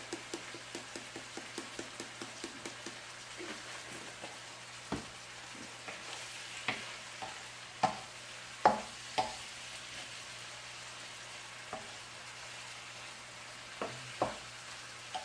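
Shrimp sautéing in butter and garlic in a pan, a soft, steady sizzle broken by regular light scraping taps of stirring and a few sharper knocks, fairly quiet with no voices.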